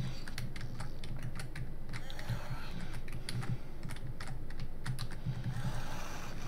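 Computer keyboard keys are tapped rapidly and irregularly while a Christmas-themed video game is played, with close, sharp clicks over a background of game music.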